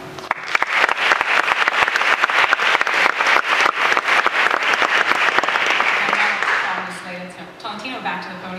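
Audience applause at an honors symposium, a dense burst of many hands clapping that runs loud and steady for several seconds, then fades out as voices and room sounds take over.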